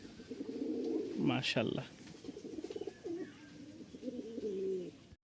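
A pair of biscuit-coloured Giribaj pigeons, a male and a female, coo in soft repeated rolling phrases close by, with a brief louder burst near the start and someone talking over them.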